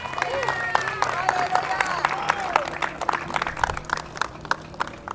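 A church congregation claps during a baptism service, scattered sharp claps mixed with crowd murmur and a sustained musical tone underneath, growing choppier toward the end.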